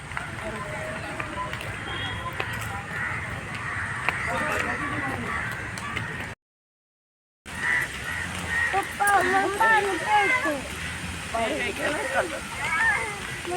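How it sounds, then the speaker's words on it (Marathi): A waterfall among hanging vines pours with a steady, close rushing roar that carries on throughout, broken by a short gap partway through, while voices and faint bird-like calls sound over it. "बघा इथे धबधबा आहे"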